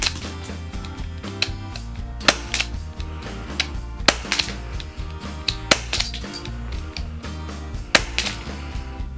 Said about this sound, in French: mettre du petit gaz dans la petite poignée vu qu'il y a un petit réservoir dedans, enlever la petite sûreté pour pouvoir appuyer sur la petite détente et tirer la petite bille.